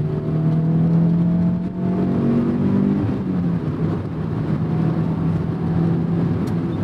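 A Honda S2000 sports car's engine drones loudly and steadily, its pitch shifting slightly as it pulls through the revs, heard close and alone without speech.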